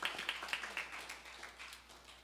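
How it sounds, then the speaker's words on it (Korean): A church congregation claps together, a brief burst of close, dense applause that starts strong and tapers off quickly. "서로 우리 격려하는 마음으로 박수 한번 하겠습니다."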